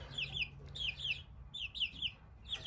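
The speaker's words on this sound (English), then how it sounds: "Those are my mini chicken, guys." Two mini chickens cluck in short repeated bursts, three clusters of quick, nearby calls with soft background rumble between them.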